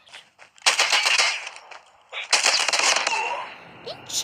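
Call of Duty gunfire crackles in two loud bursts of rapid automatic shots, the first roughly in the first second and a half and the second heavier one after a pause, then tapers to scattered pops.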